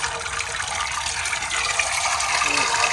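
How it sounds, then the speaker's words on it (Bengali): Water gushes steadily from a filled plastic bag as it is poured out while releasing fish fry, a continuous broadband splashing rush that stays loud and even throughout with no voices. "সুন্দর করে জল দিয়ে দেবো।"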